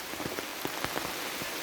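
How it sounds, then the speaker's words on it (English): Rain patters steadily on the Laurel Highlands hiking trail, a dense hiss of drops with scattered closer splats, heard alone without voices. "Hope the rain slows down a little bit"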